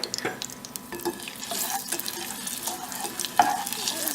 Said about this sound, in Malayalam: ജസ്റ്റ് ലൈറ്റായിട്ട് ഫ്രൈ ചെയ്യുക